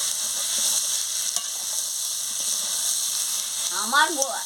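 Potato and pointed gourd cook with poppy seed paste and a little sugar in a pan, giving a steady soft sizzle with scattered stirring scrapes throughout and a brief brighter clatter near the end.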